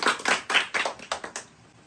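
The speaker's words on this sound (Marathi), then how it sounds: "चला टाळ्या." A small group claps hands during a home party game, about eight quick, uneven bursts of applause over under two seconds, close by and fading out at the end.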